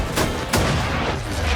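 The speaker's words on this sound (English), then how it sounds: "the AA gun goes off in the background, which you may have noticed is being towed by a tank" An anti-aircraft gun towed behind a tank fires in a Battlefield 5 battle, giving two heavy, booming bursts about a third of a second apart over a dense, rumbling battlefield background.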